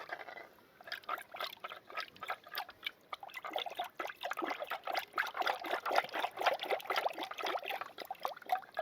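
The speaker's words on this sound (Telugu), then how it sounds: "నీళ్ళు పోసేసి చక్కగా చిలికేద్దాం" Water is poured into curd in an uneven, splashy trickle that grows steadier and fuller, close by, with no talking.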